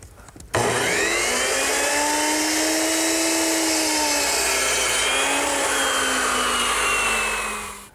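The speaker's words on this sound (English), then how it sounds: "So we'll do that over at the miter box." A power miter saw cuts a wooden wheelbarrow leg at a 15-degree angle, spinning up abruptly and whining steadily for several seconds before winding down, loud and close with no talk.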